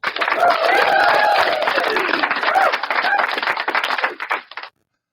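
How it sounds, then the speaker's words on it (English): A studio audience at a radio show gives a round of applause for 97-year-old Bill Gossett, brisk close clapping with some voices mixed in, lasting about four and a half seconds before stopping abruptly. "give him, Mr. Bill Gossett, 97, everybody, a round of applause"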